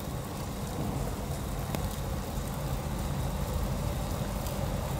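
Heavy rain pours over Sydney Harbour, a dense, steady hiss of drops falling continuously and close without letting up, with no voices heard.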